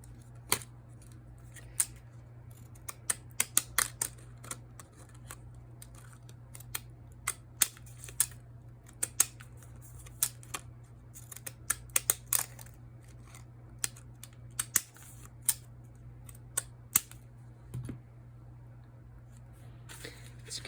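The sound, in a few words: decorative edge scissors cutting paper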